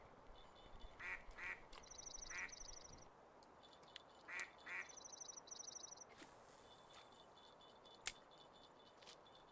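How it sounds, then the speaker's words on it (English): A duck in the fishing game Russian Fishing 4 quacks in scattered bursts of two or three calls over a steady outdoor ambience, with soft chirps and a few sharp clicks between them and no talking. "Regular fake duck noise."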